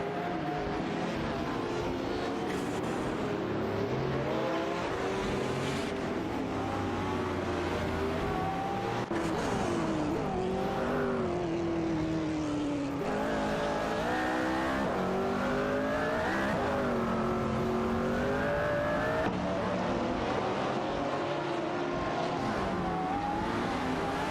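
Race cars in an AI-driven racing video game roar around the track at high speed, engines revving and shifting steadily and loudly throughout with passing whooshes, with no talking.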